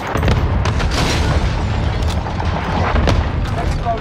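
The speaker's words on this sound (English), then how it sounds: "Airstrike, you are cleared hot. Got your request. Cluster strike is active." Cluster airstrike explosions in the Warzone video game, a steady, dense rumble of low booms rolling on for several seconds, loud and continuous, with a voice speaking over the blasts.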